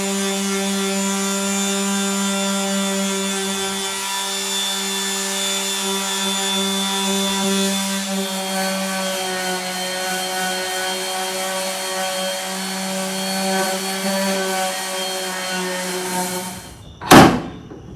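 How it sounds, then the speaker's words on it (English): A steady, droning power-sander hum runs continuously against the body of a Toyota Tacoma Raptor, ending with a sharp knock near the end. "we're just gonna start sanding the whole vehicle"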